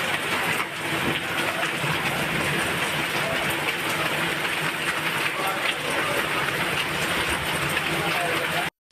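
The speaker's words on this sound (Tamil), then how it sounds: "இதனிடையே தஞ்சை மாவட்டம் பட்டுக்கோட்டையில் இடி மின்னலுடன் 2வது நாளாக கனமழை பெய்தது." Heavy rain pours down in Pattukkottai, Thanjavur district, a dense, loud, unbroken hiss that holds steady for the full stretch before cutting off abruptly at the end; no distinct thunder stands out.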